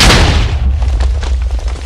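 A TNT cannon goes off in Minecraft with a loud deep boom that rolls straight into a dense rumble of blasts and crackles. The din fills the whole stretch without fading much and has no talk over it.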